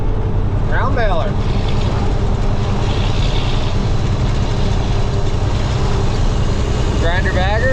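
A John Deere 4240 tractor drives a grinder bagger, a steady loud low engine drone and machine rumble running throughout, with faint high squeals near the start and end.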